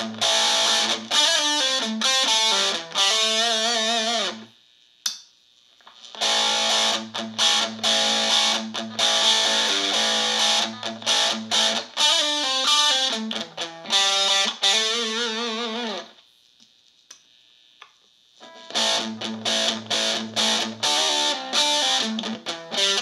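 Electric guitar played through heavy distortion, riffing chords and notes in several long passages separated by short silences, loud and up close.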